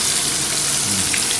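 Food sizzles steadily as it fries in oil in a pan, a dense continuous hiss with no talk over it, cooked outdoors for a beach dinner in Goa.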